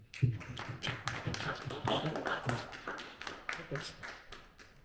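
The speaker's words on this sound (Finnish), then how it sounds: "kiitos kovasti Annika, vielä aplodit" Audience applause at the end of a university philosophy lecture: a fairly faint, steady patter of many hands clapping for about five seconds, with scattered louder claps and no talk over it.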